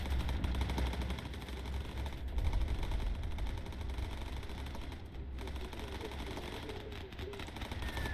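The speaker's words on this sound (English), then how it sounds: "Oh, those are some big flak cannons." Heavy flak cannons pound away in the World War II bomber game American Bomber Crew, a loud continuous barrage of rapid, rattling bursts under a low rumble, persisting throughout with no talk over it.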